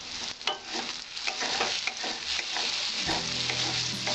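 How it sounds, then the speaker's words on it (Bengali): Brinjal slices frying in mustard oil in an uncovered pan, hissing and sizzling steadily and loudly throughout, with light scraping from stirring. "দেখুন আমার ভাজা থেকে অনেক তেল উঠেছে"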